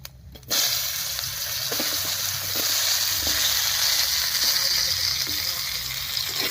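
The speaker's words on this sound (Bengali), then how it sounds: "এর উপরে দেব কেটে রাখা আলু।" Cut potatoes dropped into hot oil with tempered bay leaf, whole garam masala and cumin, sizzling loudly and steadily after a quiet start, with faint scraping and stirring clicks throughout.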